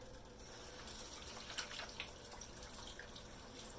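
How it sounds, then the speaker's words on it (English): A kitchen tap runs while hands are washed under it, giving a faint, steady hiss of flowing water with a few soft splashes and clinks, and no voices. "Let me wash my hands off first."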